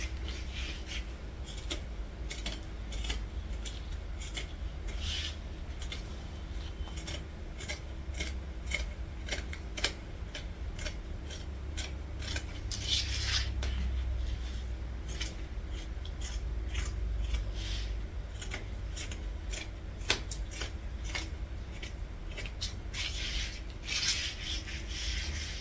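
Scissors snip through white dress fabric in a steady series of quiet, close cuts, with light rustling of the cloth between the snips over a long stretch and no talk.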